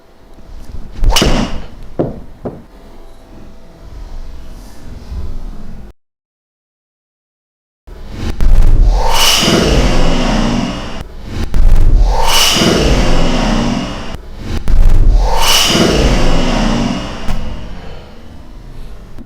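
A golf club swings and strikes the ball during a lesson, with several loud whooshing swishes and sharp hits in succession, separated by a brief silence and a short quieter stretch.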